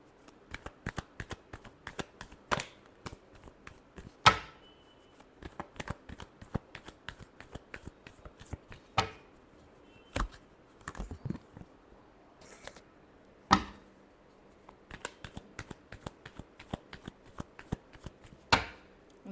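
Tarot cards are shuffled by hand in quick, quiet riffling patters, with occasional sharper snaps and taps between bursts.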